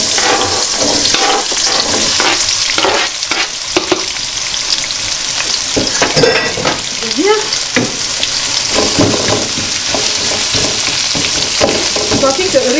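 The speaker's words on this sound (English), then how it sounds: "And let's put the vegetables frying now." Red onion and vegetables fry in a saucepan with a steady close sizzle, broken by occasional stirring scrapes and clinks, with no talking.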